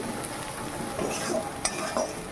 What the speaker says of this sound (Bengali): কষা মানে একটু কষিয়ে নিচ্ছি